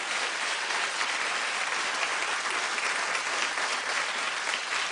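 Dense, even applause from a television talk show studio audience, loud and continuous with no voices over it.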